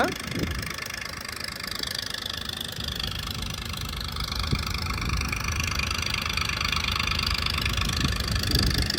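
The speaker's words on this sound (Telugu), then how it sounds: "ఇదిగోండి చూసారు కదా రెండు మోటార్లు కూడా రన్ అవుతున్నాయి అనమాట" Two motor pumps run together, pumping water out of a flooded construction site, a steady close low engine drone with a constant rumble and no talking.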